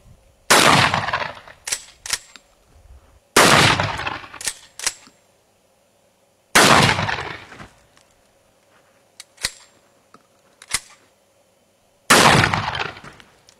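A shotgun fires number 4 birdshot at targets: four loud, sharp blasts spaced a few seconds apart, each with a ringing tail, and faint pellet impacts and clicks in between.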